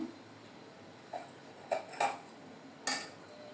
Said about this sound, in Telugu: మీద మళ్ళీ చిన్న పాన్ పెట్టాను